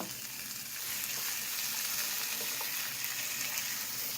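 Ground green peas tipped into a hot frying pan for a homemade green pattice filling, giving a steady, close sizzle and frying hiss with soft stirring and no talk.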